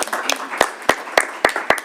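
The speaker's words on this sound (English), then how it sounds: "Big round of applause for that report." Sparse clapping after a report at a school or community broadcast, a few distinct hand claps spaced irregularly, fairly close and moderately loud, with a faint murmur between them.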